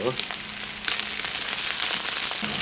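Chicken pieces from a large rooster stir-frying in a wok with a little oil, a bright, steady hiss and crackle that swells louder partway through, with a voice speaking faintly underneath.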